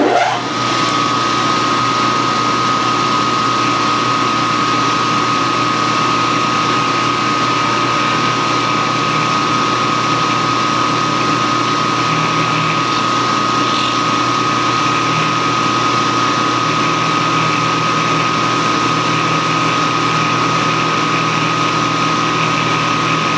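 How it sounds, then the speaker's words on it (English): A milling machine cuts with a center-cutting 2-flute end mill, giving a loud, continuous whine and hum that stays steady with no talking. "now I can come down and machine that carefully"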